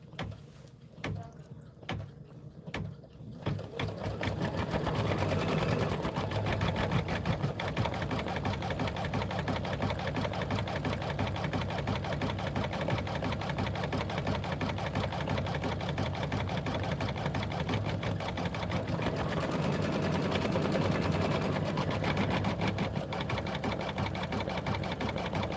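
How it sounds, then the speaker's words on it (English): An embroidery sewing machine satin-stitches a quilt block, a continuous fast mechanical hum and needle rattle running steadily and close after a few quieter seconds at the start. "It's going to do the satin stitching around here and the stems of the bushes."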